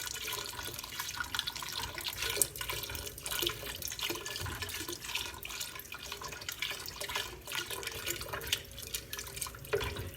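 Chicken broth pours from a container into a cooking pot, a steady liquid splashing and gurgling that runs the whole stretch with small drips and spatters, close and moderately loud, with no talking.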